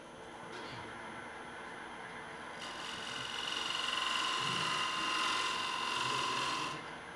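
A woodturning lathe at a woodturners club meeting, with a point tool cutting the rim of a wooden bowl: a steady rasping hum that swells into a louder, brighter scraping cut for a few seconds, then eases off.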